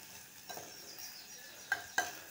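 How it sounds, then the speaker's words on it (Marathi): Chopped onions fry in hot oil for a chickpea curry, a soft steady sizzle with a couple of sharp spoon clinks against the pan, close and quiet with no talking. "कांदा आपल्याला छान असा लालसर होईपर्यंत भाजून घ्यायचा आहे"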